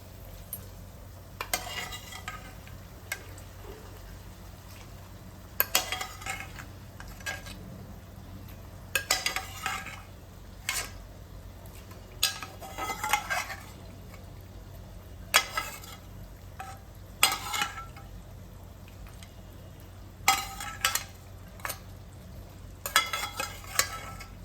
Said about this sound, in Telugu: ఆల్రెడీ బాయిల్ చేసిన మటన్ని యాడ్ చేద్దాం